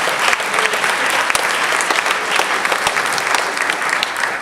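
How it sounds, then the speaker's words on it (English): Applause from an audience for a graduating class at a Christian service awards ceremony, a dense, steady roar of clapping that runs loud and continuous throughout with no pauses. "I think you deserve a round of applause"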